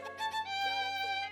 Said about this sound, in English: When the beat drops, you will hear this violin.